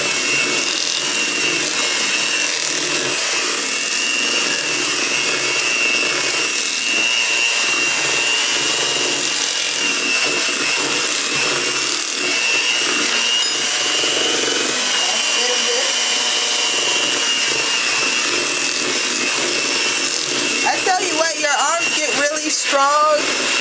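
A hand blender mixes brown sugar cookie dough with a steady, continuous motor whir under a single voice talking, while the blades strain against the thick dough near the end.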